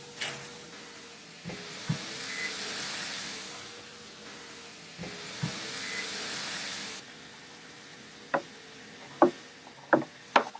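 Bean sprouts stir-fry on a flat griddle at a tiny seven-seat burger restaurant, cooked ahead as a side for hamburg steak. A steady broad sizzle runs for several seconds, then fades, followed by a few sharp spatula clacks on the metal.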